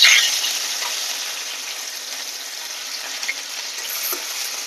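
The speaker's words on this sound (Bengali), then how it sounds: "এটাকে একটু ভেজে নেব।" Steady sizzling of ginger, garlic and chopped green chilies frying in hot oil, a continuous bright crackle with a few small pops, close up and with no voices.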